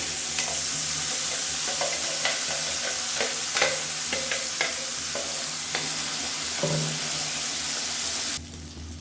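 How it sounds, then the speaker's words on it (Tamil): Spicy garlic chutney poured into hot oil already crackling with tempered curry leaves, sizzling and frying loudly and continuously close by, with stirring clinks against the pan before the sizzle drops off at the very end. "இப்போ நம்ம அந்த சட்னி இதில் சேர்த்துக்கலாம்."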